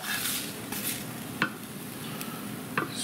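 Onions and garlic being stirred and spread around in a slow cooker for tomato soup, a soft steady scraping and rustling with a few brief sharp clicks of the utensil against the pot, close and fairly quiet.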